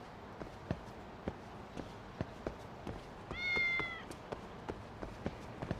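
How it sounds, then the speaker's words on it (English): Cats meowing in Lost Judgment, a single drawn-out meow that rises and falls, heard over a regular rhythm of footsteps. "Oh, hey, hey, cats."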